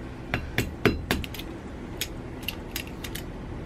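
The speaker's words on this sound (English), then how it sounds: "I'm just gonna rivet this down." Rivets hammered into thin folded leather for an armored glove, giving a series of sharp metallic taps, about five close blows in quick succession followed by lighter clinks.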